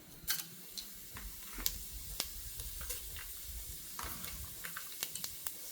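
Mustard seeds and cumin hit hot oil for avalakki upittu, giving a quiet, steady sizzle broken by scattered sharp pops and crackles at irregular intervals.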